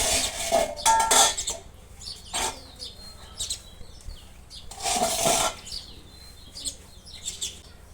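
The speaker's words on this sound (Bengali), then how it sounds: "আর এই তো ভাতটা বেড়ে নিব" Cooked rice is scooped from a pot into a bowl beside a clay stove outdoors, giving two brief scraping clatters against steady birdsong and chirps.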